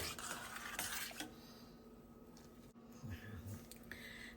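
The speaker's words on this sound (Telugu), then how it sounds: "దీంట్లోకి కొంచెంగా పెరుగు కూడా వేసుకుందామండి తోడు పెట్టినట్టు ఓకే కలిపేసుకొని అంతా ఇలాగ కలిపేసుకుందామండి" A spoon works through millets mixed with curd, giving soft, wet squishing and scraping against the bowl, faint and close, with a voice speaking at times in the background.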